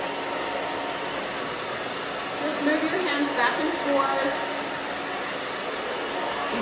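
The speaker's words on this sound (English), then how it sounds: "even the blow dryer." Blow dryer drying short, naturally curly pixie-cut hair, a steady close whoosh running throughout, with someone talking over it.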